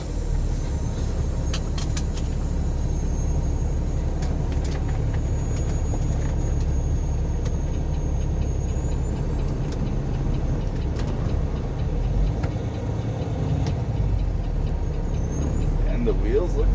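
A Super-B semi truck rolls off, its engine a steady heavy low rumble heard from inside the cab, with faint clicks and small rattles over it and no break in the drone.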